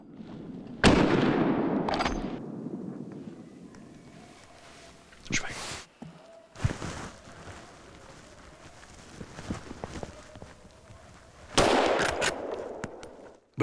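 Shotgun blasts during a driven fox and boar hunt in snowy Hungarian countryside, several loud sharp reports spaced seconds apart, with rustling and outdoor noise in between.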